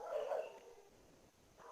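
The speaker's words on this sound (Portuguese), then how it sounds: "os cachorros aqui começou a luta" Dogs nearby bark and yip briefly at the start, then fade into low scuffling and a short whimpering sound near the end, heard fairly faintly indoors with no speech.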